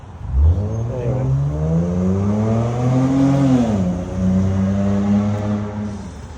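A fast car accelerates past on a suburban street, its engine note rising in a clear revving climb, peaking and then easing off as it moves away, loud and fairly close with no talk over it.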